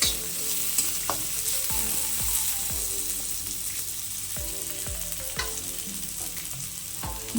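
Onions sizzle steadily in hot oil, with repeated scraping clicks of a spoon stirring the pan at an irregular rhythm.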